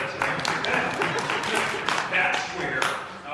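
An audience claps at a 2018 candidates' forum in Ohio's 12th district, a burst of moderate hand clapping that runs for a few seconds and mixes with voices talking.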